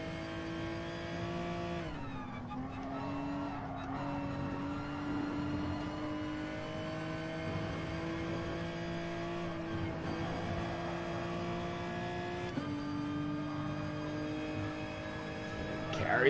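Race car engines in Gran Turismo Sport hold a high, steady drone, with pitch dipping under braking and climbing again as the car accelerates, running continuously and loud with no one talking.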